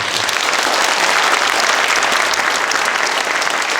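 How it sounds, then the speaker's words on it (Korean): A large audience claps loudly in Munhee Art Hall after a special lecture, a dense, sustained wall of applause that stays even from start to finish. "다시 한번 큰 박수 치십시오"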